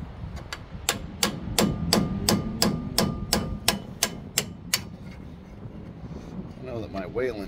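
A hammer strikes repeatedly at the front brakes of a 1974 Ford, about a dozen sharp metallic blows in a fairly even rhythm, close and loud, over a background murmur before trailing off.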